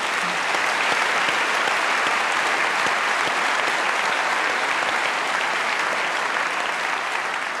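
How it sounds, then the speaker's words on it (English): Studio audience at a televised Q&A panel discussion at the University of New South Wales bursts into sustained, thick applause at the end of the program, loud and even throughout, with no voices above it. "Give yourselves a round of applause."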